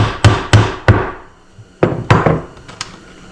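Brown fascia nails being hammered into wood for a skull mount, sharp close blows in two quick bursts of three with a pause between them.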